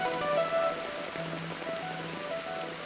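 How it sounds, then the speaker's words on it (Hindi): Steady rain patters on a surface, a constant hiss of drops with faint tonal hum in the background and no voices. "और बारिश हुई"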